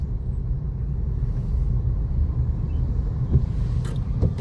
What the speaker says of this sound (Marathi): ट्रॅफिक आहे ट्रॅफिक